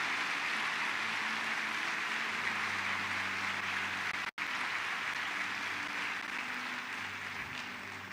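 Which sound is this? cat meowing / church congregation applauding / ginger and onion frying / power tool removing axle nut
church congregation applauding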